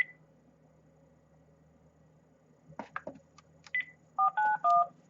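A few soft clicks, then a quick run of telephone dialing tones, several short electronic beeps in succession, fairly close and clear.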